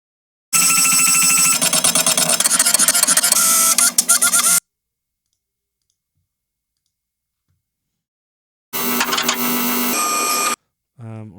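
A receipt printer whirs and clatters in two loud, steady bursts with a long silent gap between them, then a short final chirp.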